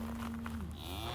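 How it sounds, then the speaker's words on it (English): A single cow moos, a low drawn-out call that drops in pitch at the end. "the cows"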